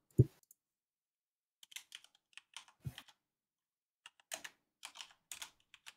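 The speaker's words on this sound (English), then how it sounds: "He's typing something, Ryan." Computer keyboard typing comes in sparse, quiet bursts of light clicks spread across the clip, with a single louder thump near the start and another in the middle against near silence.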